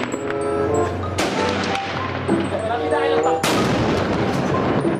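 Toy steel tank sound effect firing, two sharp loud blasts followed by crackling noise and tinny electronic tones, close and prominent.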